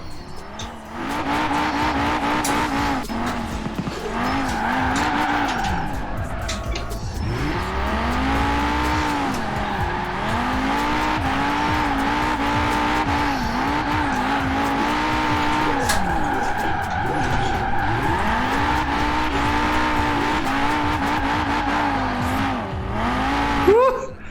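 Audi RS2 drifting in Forza Horizon 4, a steady loud engine note rising and falling with revs and tire squeal throughout, with a voice talking underneath.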